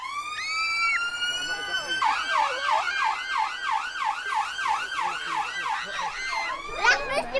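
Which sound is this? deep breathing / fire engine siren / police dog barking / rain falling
fire engine siren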